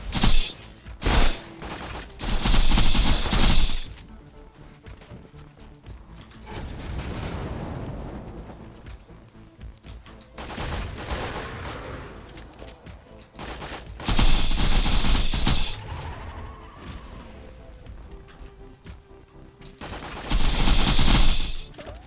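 Borderlands 2 gunfire as Zer0 fires a sniper rifle, loud bursts of shots and blasts in several clusters separated by quieter in-game noise, no talking.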